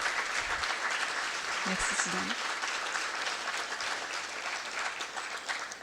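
Audience applauds a former mayor at a local gathering, a steady wash of clapping from a sizeable crowd throughout, with a voice speaking briefly over it.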